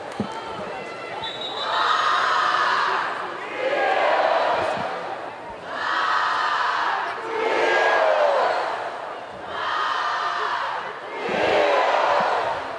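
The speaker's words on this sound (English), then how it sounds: "Crowd here at Dorrance Field getting into this one" A home crowd at Dorrance Field cheers during a women's college soccer match between Pittsburgh and North Carolina, rising and falling in six loud swells of roaring and shouting, with a commentator's voice underneath.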